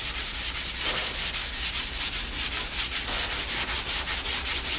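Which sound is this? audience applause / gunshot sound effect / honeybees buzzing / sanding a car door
sanding a car door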